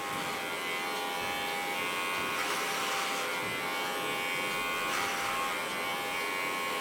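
An electric hair clipper cuts short hair with a steady, close, even buzz that swells slightly as it moves through the hair.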